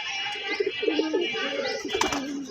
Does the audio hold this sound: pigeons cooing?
yes